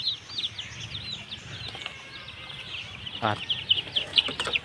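Native heritage chicks on a small farm peep in rapid, high chirps while a chicken clucks nearby; a person talks intermittently over the birds.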